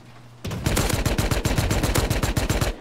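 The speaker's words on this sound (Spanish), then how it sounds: "me está disparando a mí con DB" Rapid volley of double-barrel shotgun blasts in the survival game Rust during a surprise online raid, a dense run of loud, close shots for over two seconds with no talk.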